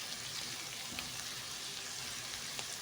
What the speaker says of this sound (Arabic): أحط الزبدة وبعدين أدبر البصلة